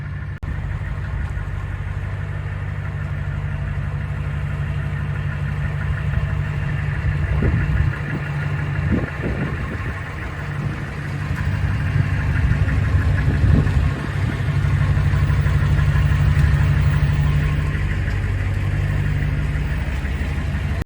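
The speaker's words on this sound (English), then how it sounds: "the tow truck's just bringing this little project in right now" A heavy truck engine rumbles steadily at idle, close and loud, with a few deeper surges and wind noise in the background.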